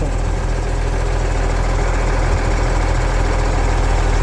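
A vehicle's engine runs while driving at about 40 km/h, making a steady, loud, low droning hum with a constant rumble and faint vibration throughout and no talk.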